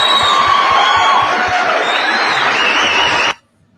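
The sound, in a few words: audience applause for a correct answer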